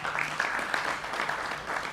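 A studio audience at a televised Hindi talk show claps in steady, dense applause, loud and sustained without pause.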